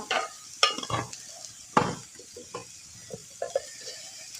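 Curry leaves, green chillies and onion dropped into hot oil in a pan give a few sharp sizzling bursts, mixed with stirring and light utensil clinks, with no talking.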